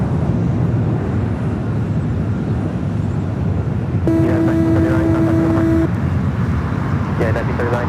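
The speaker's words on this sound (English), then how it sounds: "This takeoff is United Airlines 1939, taking off to Newark on the" A United Airlines Boeing 757-200 takes off at LAX, producing a loud, continuous broadband engine roar that stays dense and steady throughout, with a brief tonal beep partway through.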